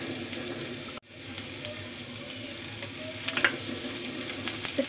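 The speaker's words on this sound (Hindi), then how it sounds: "ऑयल गर्म हो चुका है, इसके अंदर हम डालेंगे कैरेट" Carrots sautéing in hot oil in a frying pan give a continuous close sizzle, with a brief dip near the start and a few light clinks of stirring later, with no talking.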